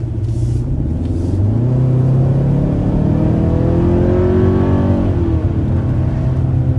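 A turbocharged four-cylinder engine drone fills the interior of a 2027 Kia Telluride or Hyundai Palisade, its pitch rising and falling as the motor revs, with constant low road rumble underneath.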